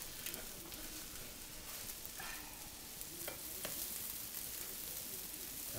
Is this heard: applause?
no